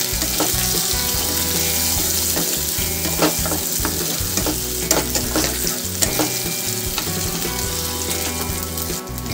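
Tomato pieces hit a pan of frying ginger-garlic paste for a Bengali prawn and taro curry, giving a steady loud sizzle with repeated scraping stir strokes throughout.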